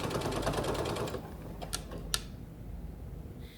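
A sewing machine stitches a jacket hem over a serged edge, a fast, even mechanical whirring that runs for about a second and a half, then stops, leaving a few faint clicks and handling noises.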